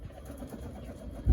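Racing pigeons coo softly and continuously at close range through a short stretch, with a low thump at the very end.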